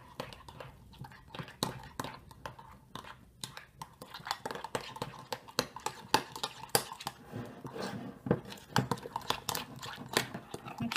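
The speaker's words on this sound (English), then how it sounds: "So we're just going to go ahead and stir our ingredients all together." Ingredients for a veggie dip with lime, fresh parsley and onion powder being stirred together in a bowl, quick irregular scraping and clicking strokes throughout, with soft speech in between.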